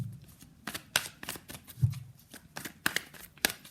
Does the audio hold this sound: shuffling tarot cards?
yes